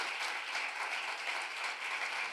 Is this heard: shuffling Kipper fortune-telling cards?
no